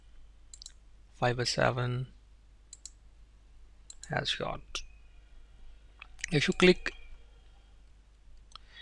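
Mouse clicks in Adobe Photoshop Lightroom while selecting crop ratios, a few light clicks scattered between bursts of speech, with a person talking over them.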